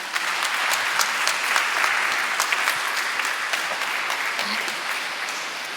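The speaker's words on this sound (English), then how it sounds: "Please applause to him." An audience at a conference talk applauding, dense sustained clapping from many hands that fills the room evenly and slowly tapers, heard alone without speech.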